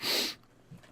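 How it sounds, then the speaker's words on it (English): A dog sneezes once, a short loud burst of hissy breath at the start, followed by quiet room tone with a faint low thump, during a relaxed indoor podcast session. "The dog sneezed."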